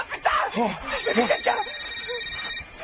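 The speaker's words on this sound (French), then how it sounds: "Il y a un téléphone qui sonne. Ça sonne." A phone rings with a steady electronic tone, heard faintly behind an excited, shouting voice that fills most of the moment.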